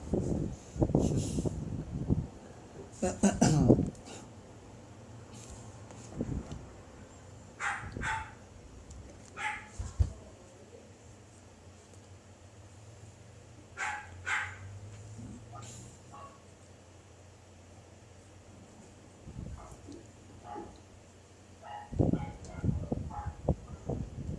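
Small house dogs bark in short, scattered bursts, some loud and close, others fainter, with quiet gaps between them and a low background hum throughout.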